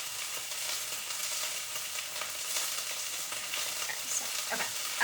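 Chicken pieces browning in a hot pan give a steady, quiet sizzle and crackle with faint stirring scrapes, continuous and without talk.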